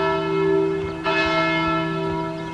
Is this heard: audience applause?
no